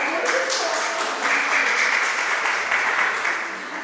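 Applause from a group of seniors after a correct quiz answer, a loud, close, sustained wash of clapping that stays even for several seconds before easing slightly at the end.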